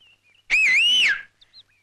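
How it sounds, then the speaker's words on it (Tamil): A person gives one clear, loud whistle lasting under a second with a rising and falling pitch, preceded and followed by faint softer tones. "விசில் அடிக்கணும்னா"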